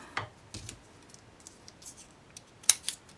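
Scissors trimming ribbon for a scrapbook layout, a few faint, quiet snips and clicks spread irregularly, close and otherwise near silent.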